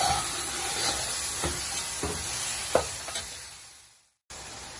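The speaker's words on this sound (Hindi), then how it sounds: "ये माशाल्लाह जहाँ हमारे पाए भुने जा रहे हैं" Mutton trotters (paye) frying in a pot give a continuous close sizzle with occasional spoon scrapes and knocks, fading briefly to silence near the end before the frying noise resumes.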